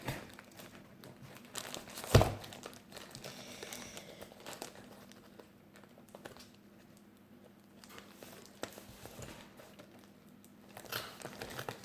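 A diamond painting kit ordered from AliExpress is unwrapped, with soft crinkling and rustling of its plastic packaging, one sharp loud crackle early, then quieter handling noises.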